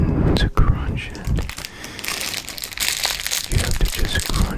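An object is crunched and crinkled close to the microphone for ASMR, with dense crackling bursts and crisp rustles in an uneven rhythm under soft whispered speech.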